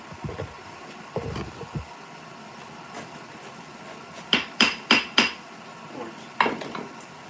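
Hammer blows on a billet during a Damascus forging session: a quick run of four sharp, ringing metallic strikes near the middle, with a few lighter clanks before and one more strike later, fairly close and with no talking.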